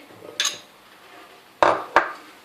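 Cooked chicken is tipped into a bowl for a Florida chicken salad, giving a soft clatter followed by two sharp clinks of a utensil against the bowl, close and distinct with no talking.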